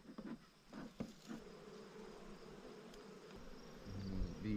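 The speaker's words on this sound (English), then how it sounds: "There's a bee trying to come out right now." Honeybees from a recently caught swarm buzz around a hive outdoors in a dense, continuous drone, with individual bees passing near and faint bumps and rustles.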